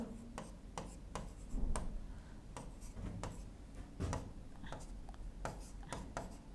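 A teacher writes numbers, producing quick, regular, close tapping and scratching strokes, about a dozen distinct marks at a steady rhythm with no talk.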